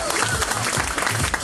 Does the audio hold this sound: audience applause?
yes